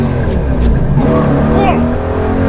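V8 3UZ-powered BMW E36 drift car revving hard and accelerating, a loud, close engine roar rising in pitch over a couple of seconds, with voices speaking over it.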